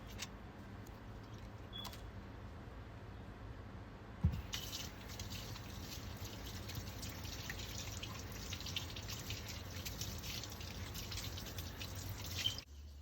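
Hands are washed and scrubbed under a running tap, a soft, steady flow of water with faint wet squishing and splashes, quiet and close, with a louder gush starting partway through.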